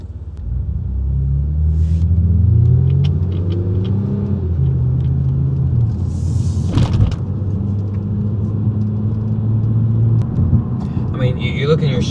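Toyota TRD car engine rumbling at idle, then building into a deeper, louder acceleration heard from inside the cabin, a steady low drone with a brief clunk partway through.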